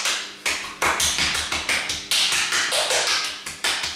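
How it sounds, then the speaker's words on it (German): Hands tapping rhythmically on the chest during a lung exercise, a steady series of about a dozen close, crisp pats at a regular quick pace with no talking. "kann mir die Brust noch klopfen."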